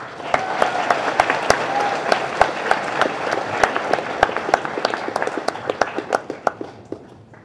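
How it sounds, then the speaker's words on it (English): Audience applause at a school Martin Luther King Jr. Day program, steady clapping that thins toward the end into scattered individual claps. "Give Emily a round of applause."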